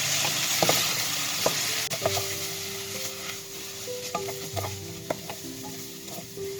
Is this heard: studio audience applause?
no